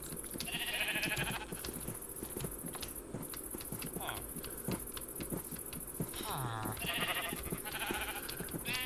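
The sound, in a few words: sheep bleating in Minecraft video game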